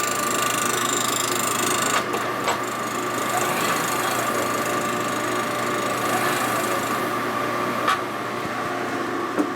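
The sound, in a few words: welding passes on a Harley Shovelhead inner primary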